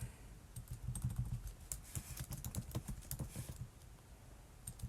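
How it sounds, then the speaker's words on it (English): Quiet, rapid typing on a computer keyboard during an MS-DOS programming session, with irregular bursts of close key clicks and no talk. "nothing fancy here. Just takes a lot of typing."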